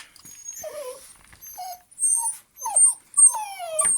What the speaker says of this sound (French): Regardez-moi ce petit chien malheureux.